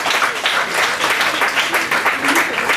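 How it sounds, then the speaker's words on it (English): Steady applause from an audience at an MBA induction day programme, a dense continuous patter of clapping filling the whole stretch at a loud, even level. "A great applause has to go because it's a very important question."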